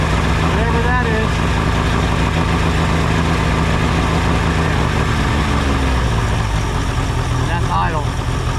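A Mariner 60 hp outboard motor idles at around 800 RPM with a lean, sneezing running condition, a steady close engine drone running throughout while someone talks over it.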